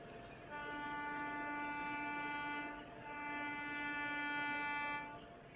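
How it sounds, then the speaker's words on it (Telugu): A MEMU passenger train on the Kacheguda route sounds its horn, two sustained tonal blasts with a short dip between them, fairly faint and distant over a low background rumble. "హార్న్ అనిపించింది కదా."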